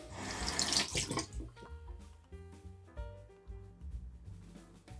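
Water runs from a tap into a sink while rinsing off after a shave with an Aylsworth Drakkant Ti razor, a steady close splashing flow with no speech.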